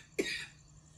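A single sharp cough from one person, close and fairly quiet, bursts out abruptly and trails off into a brief breathy tail against a low background hum.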